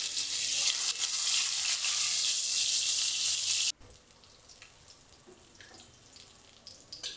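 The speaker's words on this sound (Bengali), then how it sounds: "একই তেলে এবার বাকি যে মাছগুলো আছে ওই মাছগুলো দিচ্ছি।" Snakehead fish pieces fry loudly in hot oil for several seconds, a dense bright sizzle that cuts off abruptly, leaving only faint quieter crackling afterward.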